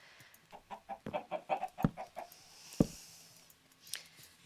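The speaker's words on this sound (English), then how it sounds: "okay, move chicken." Minecraft chickens cluck in a quick run of about eight soft clucks, followed by two sharper isolated clucks, fairly faint over a quiet game background.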